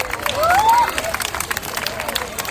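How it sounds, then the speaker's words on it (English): Crowd at an award ceremony during a carnival closing event applauds and cheers briefly, a burst of clapping with a high whoop, then scattered claps fading under low crowd murmur. "Big round of applause."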